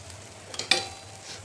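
Leftover stuffing masala from stuffed eggplant going into a hot pan, a soft sizzle with a short burst of scraping and frying around the middle, then settling to a faint hiss.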